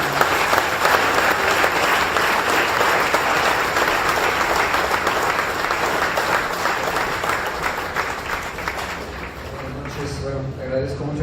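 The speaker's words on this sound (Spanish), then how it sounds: "Le das un fuerte aplauso a nuestro Señor" A church congregation breaks into loud sustained applause, thick clapping that fills the space and tapers slightly near the end, with voices speaking over it.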